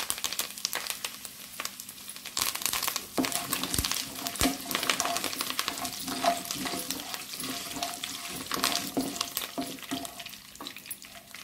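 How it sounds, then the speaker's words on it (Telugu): Curry leaves hit hot oil in a pan for a potato and egg curry, a loud crackling sizzle with sharp pops and spits that keeps bubbling throughout, close up and with no talk. "ఇప్పుడు కరివేపాకు యాడ్ చేసుకోండి"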